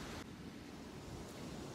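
Ocean waves washing onto a beach, a soft, distant continuous roar of surf with no voices.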